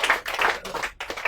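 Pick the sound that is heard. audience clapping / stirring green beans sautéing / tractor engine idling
audience clapping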